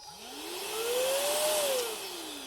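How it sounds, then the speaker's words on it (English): A Roedix cordless air duster running, blowing air from the front and sucking at the back, a steady motor whine rising in pitch as it spins up, then easing slightly, close and alone. "it blows air from at the front and it sucks on the back"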